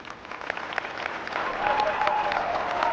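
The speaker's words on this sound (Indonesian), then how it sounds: "Tepuk tangan dong." Audience applause at a stage performance during a Halal Bihalal gathering: dense, sustained clapping from a crowd that swells and grows louder partway through and keeps going to the end.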